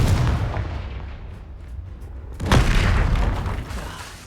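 Spell explosions in the video game Hogwarts Legacy: a rumbling, booming wash of magical blasts, with a sharper loud impact partway through followed by a lingering roar.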